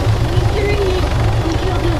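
Steady thumping drone of a video-game helicopter rotor and engine in Arma 3, loud and close, with faint voices talking over it.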